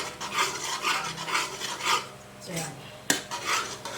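Batter being stirred and mixed in a pot during home cooking, a steady rasping scrape with a rhythmic swirl every half second or so, close and fairly loud, with a sharp metallic knock from the spoon near the end.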